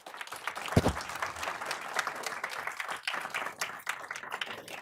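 Audience applause at a school board meeting, a sustained crowd clapping with one loud burst near the start, then steady, moderately loud clapping.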